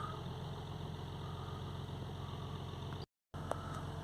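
A VW Touareg 3.0 TDI V6 diesel with a DPF soot fault idles steadily and close, a continuous low rumble broken by a brief cut near the end.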